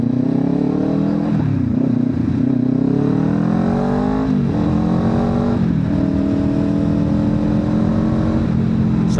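A Kawasaki Ninja 500 motorcycle accelerates hard and loud, its engine note climbing repeatedly with several quick dips as it shifts up through the gears, heard close and continuous without any talk.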